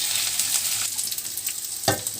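Ginger and garlic paste is stirred into onions frying in oil for a spicy duck curry. A close, steady sizzle runs throughout, with scraping stir strokes and one sharper clack near the end.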